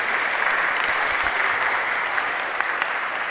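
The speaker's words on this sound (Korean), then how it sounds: "박수, 감사의 박수." A church congregation at a Sunday service breaks into steady, dense applause of thanks, a continuous wash of many hands clapping close by for the full few seconds with no talking over it.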